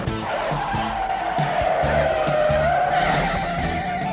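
A yellow Camaro tears through a high-speed police pursuit with a steady engine roar and drawn-out tire squeal, loud and close, with intermittent music hits over it and no talk.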